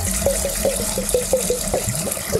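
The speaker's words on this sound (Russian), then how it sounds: "Мы всегда вливаем спирт в воду, но никак не иначе." Alcohol is poured into water to make homemade vodka, giving a steady liquid trickle and splash with a repeating rhythmic gurgle throughout, close and moderately loud with no talking.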